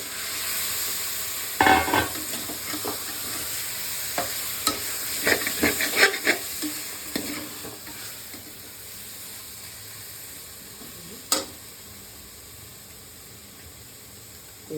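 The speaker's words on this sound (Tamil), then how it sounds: "இன்னும் பச்சை வாசனை இல்லாத வரைக்கும் கொஞ்சம் நல்லா வதக்கிக்கணும்" Onions and masala sautéing in a pan for chicken biryani, with a steady sizzle and stirring, spoon scrapes clattering against the pan in the first half, then a quieter continuous frying hiss.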